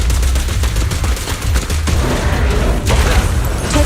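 Rapid video game gunfire from Zenless Zone Zero, a loud dense fusillade of shots with heavy booming impacts filling the clip continuously.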